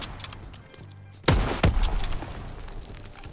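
Rifle fire in a WW2 sniper video game: two sharp, loud shots about a third of a second apart, each with a booming low tail, over quieter background game noise.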